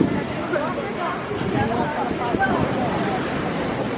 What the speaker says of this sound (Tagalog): ang lakas ng alon ng dagat